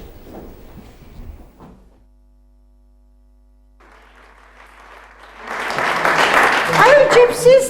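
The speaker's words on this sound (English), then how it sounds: "Let those applaud who want to do so." Audience applause rises after a quiet hum and builds into loud, sustained clapping at the end of an amateur stage show.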